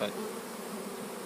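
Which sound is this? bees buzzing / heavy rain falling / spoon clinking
bees buzzing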